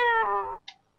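A cat gives one drawn-out, tonal meow lasting about half a second, followed by a short, faint click-like sound.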